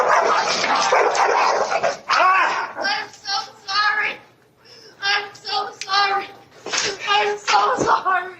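Dog in a played video barking and yipping in short bursts, heard amid frequent talking in a courtroom.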